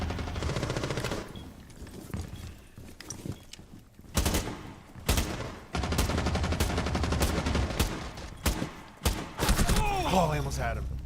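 First-person shooter gunfire, loud bursts and rapid automatic volleys of close shots broken by short pauses, with game ambience between them and a player's voice talking now and then.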